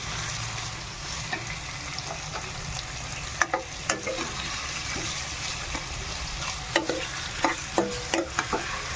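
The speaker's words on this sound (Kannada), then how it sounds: "ಚೆನ್ನಾಗಿ ಫ್ರೈ ಮಾಡಬೇಕು. ಇದನ್ನು ಜಾಸ್ತಿ ಫ್ರೈ ಮಾಡೋಕೆ ಹೋಗಬೇಡಿ." Chicken curry frying in a pan, continuous close sizzling with intermittent sharp clacks of a spatula stirring against the pan, no speech.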